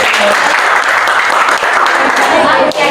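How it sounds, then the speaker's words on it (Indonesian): Pupils in a classroom applaud a classmate with a dense, steady wash of clapping that runs the full three seconds, with children's voices mixed in beneath it. "tepuk tangan untuk Bianti"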